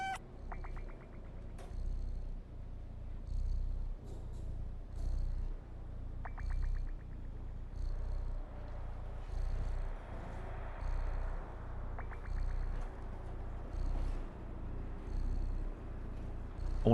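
A cat purrs softly and steadily in the video game Stray, the low rumble pulsing in regular waves over a quiet ambient backdrop, with occasional brief chirpy electronic tones and no voices.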